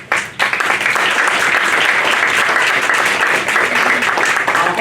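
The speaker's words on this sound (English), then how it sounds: "I hope I'm not boring because I was waiting on that clap" Audience applause at a school board meeting, loud steady clapping from a room full of people that starts abruptly and fills the whole stretch without a break.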